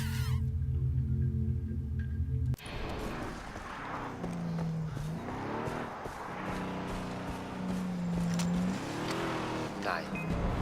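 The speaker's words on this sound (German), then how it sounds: "Ich höre auch noch schon Autos rumfahren." Cars driving around in the video game Far Cry 3, with a steady engine drone that rises and falls as vehicles circle nearby, under continuous game sounds.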